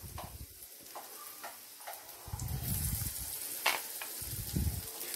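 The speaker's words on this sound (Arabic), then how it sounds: "امسك الموز كده بعد ما حطيته في النشا والبيض، هبدا بقى ان انا انزل بيه كده. بسم الله اهو في الزيت عندي" Banana pieces coated in starch and egg frying in oil: a soft, steady sizzle with scattered ticks and pops that swells louder partway through, heard close with no voices.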